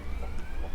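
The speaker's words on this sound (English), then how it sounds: "Oh, there's an ambulance." An ambulance siren wails steadily in the distance, faint and sustained behind low traffic rumble.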